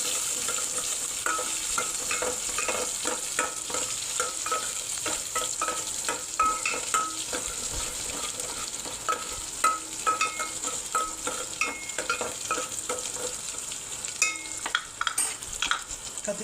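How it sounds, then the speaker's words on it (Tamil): Vegetables with mustard seeds sautéed in a pan for a Tamil kuzhambu, a continuous close sizzle punctuated by rhythmic scraping and stirring strokes throughout. "நல்லா வதக்கிக்கோங்க."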